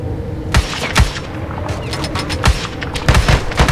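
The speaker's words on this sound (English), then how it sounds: "Open fire, open fire." A squad opens fire in a Navy SEAL military video game set in a snowy Russian winter, a heavy exchange of loud, close gunshots and bursts with booming reports layered throughout.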